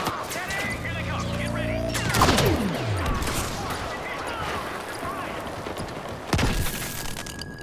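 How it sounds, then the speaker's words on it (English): A sharp flashbang grenade explosion in the 2015 Star Wars Battlefront video game pops out of ongoing battle noise, with scattered gunfire and a second burst following later, under a player's voice. "Quite the flashbang."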